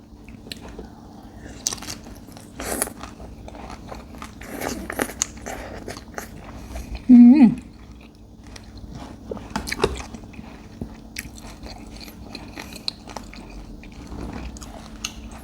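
Biting and chewing spicy papaya salad with pickled egg-bearing crab eaten shell and all: close, wet crunches and squishy mastication come in irregular bursts, with one louder crunching burst midway.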